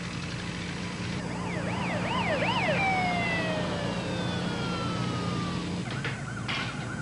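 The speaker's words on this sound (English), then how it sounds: "I heard all the sirens" Emergency sirens wail and whoop over traffic noise, one rising and falling quickly before a long descending tone, then another siren starts.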